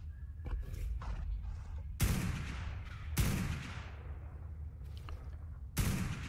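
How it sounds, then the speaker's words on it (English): Gunshots fired at dinosaurs in the video game ARK, three loud sharp cracks spaced a second or more apart, each trailing into a rumbling decay, with faint clicks and scrapes of gameplay between them. "I'm just going to shoot each and every dino once so that they want to come towards me and fall off that cliff"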